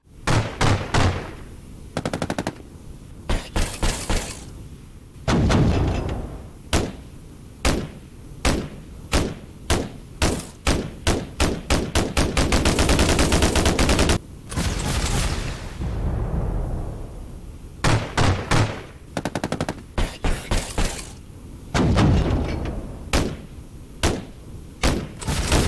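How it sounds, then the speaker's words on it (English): Weapons firing in the indie shooter game Islands of War, rapid bursts of machine-gun-like shots and heavy thuds, with a fast continuous volley in the middle and sharp isolated blasts around it, loud and without speech. "And then I'll just fire off the other weapons."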